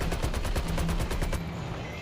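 Rapid automatic gunfire in the Call of Duty Mobile video game, a fast burst of evenly spaced shots lasting over a second, then a lingering echo under a steady game backdrop.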